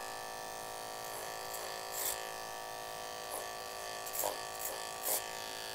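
Electric hair clippers buzz steadily while cutting a taper and blend on a disconnected undercut, with a few brief louder passes as the blade works against the hair, close and fairly quiet.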